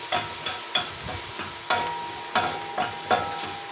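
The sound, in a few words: chopped onion sautéing with garlic in a pan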